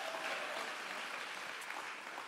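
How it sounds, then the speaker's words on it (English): Audience applause at a podcast recording, steady dense clapping throughout at a moderate, even level with no voices over it. "Y'all clapping to a beautiful woman"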